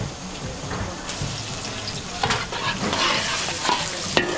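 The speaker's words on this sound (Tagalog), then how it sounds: "So gigisa natin yung pancit natin. Lalagay tayo ng bawang." Garlic and onion sautéing in hot oil for pancit, a close, steady sizzle and crackle broken by stirring scrapes and clinks of a utensil against the pan.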